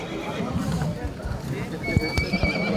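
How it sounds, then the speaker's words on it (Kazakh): A young horse, a colt, neighs in loud whinnies amid the bustle of a livestock market, with hooves clopping nearby and people talking throughout. "Жаска кунан окшойт"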